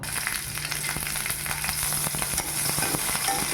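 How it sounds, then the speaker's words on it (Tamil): Cauliflower pieces frying in hot oil for a cauliflower gravy, a dense, continuous crackling sizzle up close with faint stirring, no voices. "இந்த காலிஃப்ளவர் இருக்குல்ல, அதை வந்து கொஞ்சம் எண்ணெயில் போட்டு வறுத்து எடுத்துக்கலாம்"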